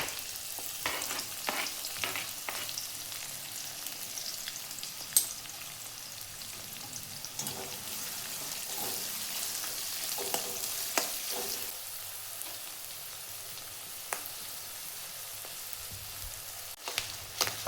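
Chopped onions fry in hot oil with cumin for a bitter gourd dish, giving a soft, steady sizzle broken by occasional clicks and scrapes of stirring, with no voices.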